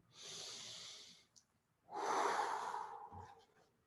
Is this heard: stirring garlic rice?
no